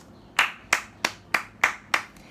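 Six crisp hand claps at an even, moderately quick rhythm, close and sharp against a quiet room, with no talking.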